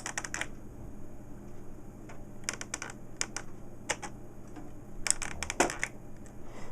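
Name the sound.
typing on HP Digital Entertainment Center Z545 computer keyboard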